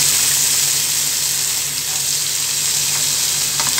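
Carrots frying in a pan for a coconut poriyal give off a steady, continuous sizzle at an even level throughout, with no talking over it.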